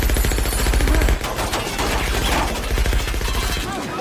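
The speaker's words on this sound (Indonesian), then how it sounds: "mereka semua mencoba menembak Clay secara bersamaan" A film scene of several enemies firing at once: dense, continuous rapid gunfire heard loud and close, easing slightly into a sustained clattering barrage.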